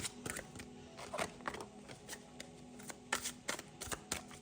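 Oracle cards are shuffled and handled close up, with quiet papery riffles, flicks and soft slaps coming in irregular bursts against a hushed room.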